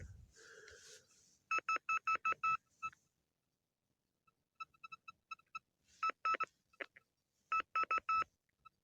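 Bursts of rapid electronic beeping in short repeated clusters, separated by quiet gaps and a few isolated blips; clean and fairly close.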